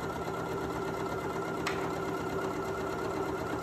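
A Janome Memory Craft MC9450 computerized sewing machine stitches with a quiet, even motor hum and one faint tick partway through, close by, with no one talking.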